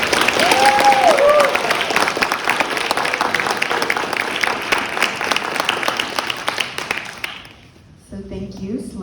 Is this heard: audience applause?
yes